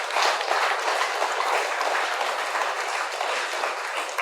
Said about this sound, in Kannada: ಆ ಮೇಡಮ್ ಜೋರಾಗಿ ಒಂದು ಚಪ್ಪಾಳೆ ಹೊಡೋಣ.